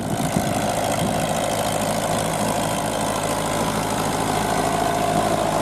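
A tractor pulls a Bomet 2x30 plow with a tekron moldboard through wet, heavy, compacted soil in a sudan grass field, its engine droning steadily and loudly under load the whole time, with no voices.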